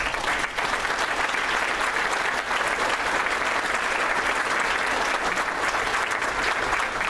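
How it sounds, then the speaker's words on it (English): A debate audience in a hall gives a sustained round of applause, dense and even clapping that holds steady for several seconds. "So I think they, again, deserve a round of applause."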